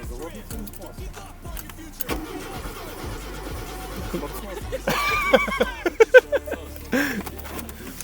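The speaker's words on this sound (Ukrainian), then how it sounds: "машину завели і зараз спробуємо її відвести на СТО" A Toyota RAV4 engine cranks and catches, then settles into a steady idle, with a power window whirring and people talking nearby.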